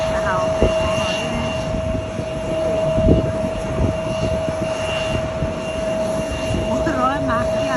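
A passenger aircraft engine drones steadily with a constant whine near Los Angeles International Airport, heard over people talking.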